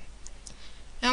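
A computer mouse clicks once near the end, a short sharp click in a quiet room.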